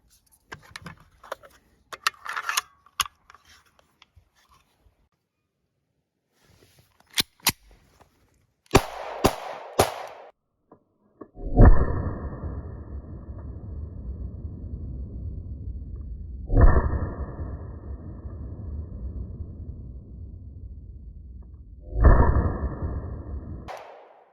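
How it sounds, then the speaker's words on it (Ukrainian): Scattered metallic clicks and handling noises lead into three sharp, loud bangs from a Sur 2608 starter pistol, each followed by a lingering ringing decay. "Зробимо три постріли, побачимо."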